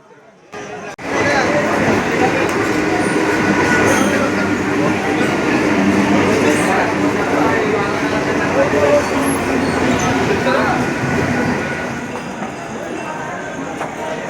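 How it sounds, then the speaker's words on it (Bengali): A train pulls into Ballygunge station in Kolkata, a steady loud rumble of wheels and carriages running continuously and easing slightly near the end, with platform crowd noise around it. "আমাদের ট্রেন ঢুকছে, আর কিছুক্ষণের মধ্যে ট্রেন ঢুকে যাবে।"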